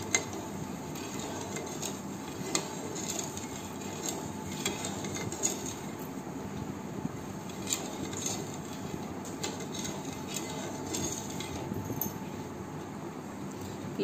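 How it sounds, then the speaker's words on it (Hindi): A spoon stirring sugar into water in a pan on a gas stove while making syrup for atta gulab jamun, soft metallic scraping and light clinks repeating steadily against the pan, close and fairly quiet, with no talking. "शक्कर को मिलाना है ताकि पानी में मेल्ट हो जाए"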